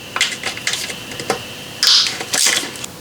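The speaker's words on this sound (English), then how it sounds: "Unscrew 4 bolts, 1, 2, 3, 4, and 2 nuts," A 10mm socket wrench ratcheting as bolts are loosened during ignition coil and spark plug replacement on a Nissan Murano: quick clicking bursts, some short and some sustained, close and fairly loud with no talk.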